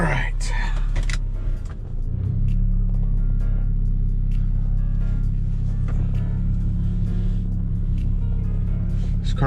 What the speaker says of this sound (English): This car makes some funny noises right now,